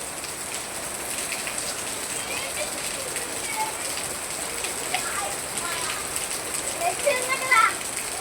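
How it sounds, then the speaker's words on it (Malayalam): Steady rain falls and patters on nearby surfaces, an even close hiss throughout, with faint children's voices in the background. "അപ്പം ഇന്ന് ഞങ്ങൾ മഴയത്ത് കുളിക്കാൻ പോവാണ്."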